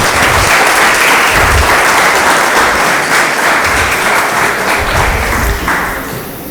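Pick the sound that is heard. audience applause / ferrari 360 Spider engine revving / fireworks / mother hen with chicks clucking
audience applause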